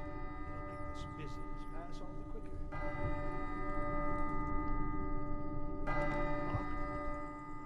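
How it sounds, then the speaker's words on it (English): Bells ring in the video game Dishonored, two bright, sustained metallic tolls starting a few seconds apart and ringing on over a steady low hum, with faint clicks and ticks underneath. "The bell!"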